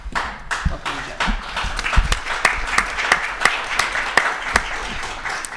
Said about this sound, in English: I'm going to let that clapping sink in